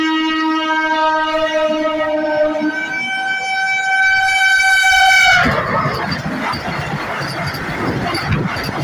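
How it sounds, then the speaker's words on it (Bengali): The Howrah–Puri Vande Bharat express sounds a long, loud, steady horn, then roars past up close with a rushing, rumbling wash of wheels and wind. "এবার তোমাদের হাওড়া পুরীর বন্দে ভারতের ওভারটেকটা দেখাচ্ছে"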